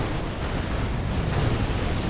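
A loud, dense, rumbling explosion in GTA 5 roars continuously for a couple of seconds, with a deep boom and no speech.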